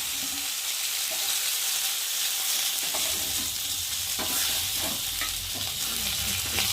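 Fish frying in oil in a pan sizzle loudly and continuously, with scattered spatula scrapes and stirring knocks over the hiss, close up and without speech.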